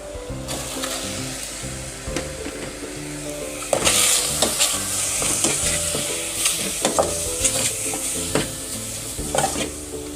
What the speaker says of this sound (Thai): เพื่อลวนหมูนะครับ แล้วก็ นำหมูลงไปลวนนะครั